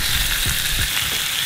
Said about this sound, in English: Daddy is cooking the bacon.